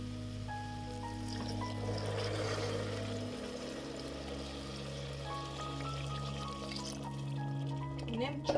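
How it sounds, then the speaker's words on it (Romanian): Hot water is poured into a pot of vegetable and mushroom soup, giving a soft continuous trickle and splash under steady background music and a speaking voice. "Apoi turnăm apa fierbinte"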